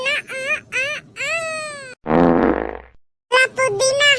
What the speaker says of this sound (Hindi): बाबू लोगन सबेरे से पादत परेशान हन